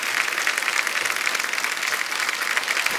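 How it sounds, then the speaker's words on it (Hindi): The studio audience on The Kapil Sharma Show applauds loudly to welcome actor John Abraham and guests, a thick, continuous roar of clapping that stays steady and close. "चलो एक बार जोरदार तालियां मिस्टर जॉन अब्राहम"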